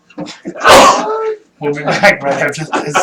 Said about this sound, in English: Cue the sneeze.